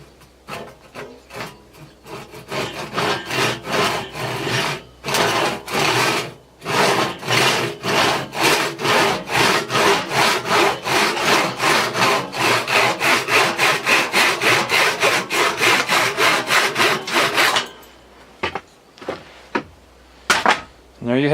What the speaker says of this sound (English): just finished here making the wood peg, and now we're gonna cut it off